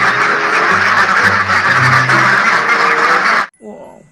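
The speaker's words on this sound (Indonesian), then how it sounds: "Wow, ini hewan bebek teman-teman." A duck quacks in a dense, continuous stream for about three and a half seconds, loud and close, alongside a toy animal-cleaning game. It then cuts off abruptly into near silence with a brief soft sound.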